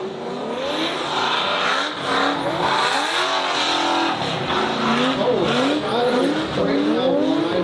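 A drift car at a competitive drifting event initiates a slide, its engine roaring close and loud while the tires let out rising and falling squeals across the whole run, with no voices.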